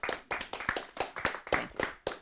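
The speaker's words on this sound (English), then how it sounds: "Let's give another round of applause for Maria" A small audience claps at a Toastmasters-style speech meeting, with distinct, fairly regular hand claps close by and a few overlapping claps; a brief burst that stays moderately loud and has no talk over it.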